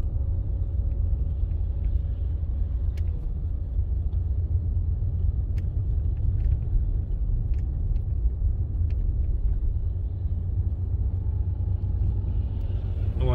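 A car drives through traffic on a paved road toward the San Miguel bypass, its steady low engine and road rumble continuous and close throughout, with faint clicks and rattles inside the cabin.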